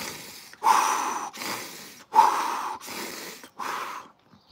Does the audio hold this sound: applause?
no